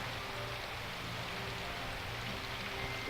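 Rain falling in a visual novel game, a dense, steady hiss of rainfall with no pauses, fairly soft and even, alone without voices.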